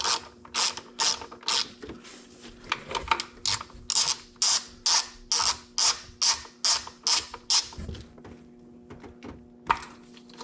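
A hand ratchet turns 10 mm bolts on a third-generation Toyota 4Runner intake, a close, crisp run of rapid clicking strokes in a steady rhythm, pausing briefly between bursts, with no talk.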